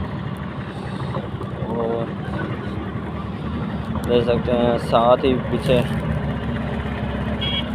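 A motorcycle carrying flour rides along a village road, its engine a steady, low rumble beneath someone talking the whole time.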